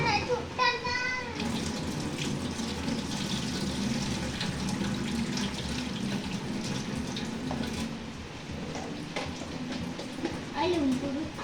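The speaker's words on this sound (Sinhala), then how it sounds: "වතුර 10ට විතර දාන්න චුට්ටක් දාන්න" Water poured from a tap into a cooking pot in a home kitchen, a steady running splash heard close throughout, with people, including a child, talking over it.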